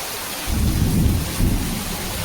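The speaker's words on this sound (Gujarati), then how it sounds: "જો ગાજે છે" Deep rolling thunder rumbles loudly over steady rain, swelling after a quiet start and surging again midway.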